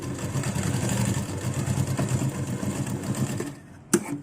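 An electric sewing machine whirs steadily and close while running a loose basting stitch on crop top fabric, then stops, followed by a single sharp click.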